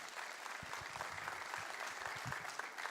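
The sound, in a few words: church congregation applause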